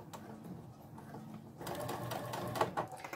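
Sewing machine stitching dish towel fabric: faint, close mechanical whirring that starts quietly and grows busier and louder after a moment, with light clicks and no talking.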